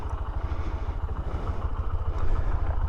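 Honda CB125F 125cc motorcycle engine running while ridden, a low, even, pulsing thrum that stays fairly quiet and steady throughout with faint wind noise above it.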